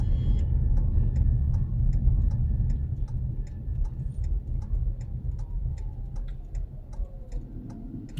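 A car's turn signal indicator ticks in an even, steady rhythm inside the cabin, sharp and close over a low engine rumble during a driving lesson, with no talking.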